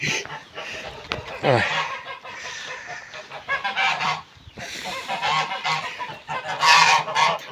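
A goose honks repeatedly and loudly up close, with harsh calls in several bursts while a person talks alongside in Ukrainian.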